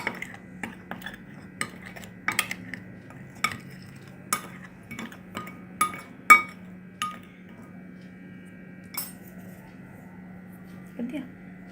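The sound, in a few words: mixing eggless choco lava cake batter in a bowl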